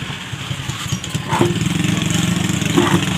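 A small motorcycle engine runs steadily in a repair setting, a continuous mid-low throbbing hum that grows louder and rougher partway through, heard close with no talk.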